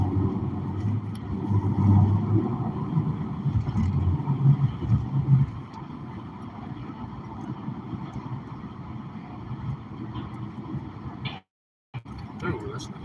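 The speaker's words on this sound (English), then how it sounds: "Do notice a little bit more road noise with these newer tires, though" Steady low road and tire rumble inside a moving car riding on new tires, with a brief dropout near the end and talk over the drone.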